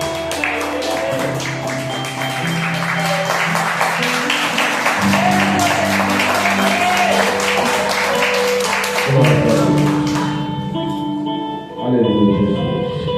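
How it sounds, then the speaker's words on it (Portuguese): A church congregation claps steadily for Jesus during a worship service, the rapid clapping layered over sustained keyboard music before dying away near the end, leaving the music alone. "Essas palmas para Jesus."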